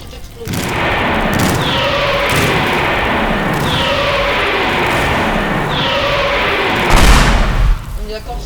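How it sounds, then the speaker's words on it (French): A small explosion in the video game Teardown: a loud, continuous rumbling roar with repeated booming swells and a heavier burst near the end, with a voice talking over it. "La petite explosion."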